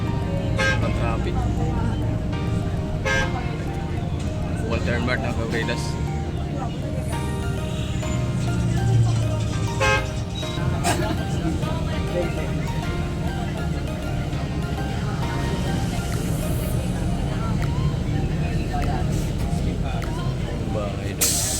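Busy road traffic in Bulacan, with engines rumbling, brief horn toots and an air brake hiss, heard from inside or beside a vehicle while people chat in the foreground throughout.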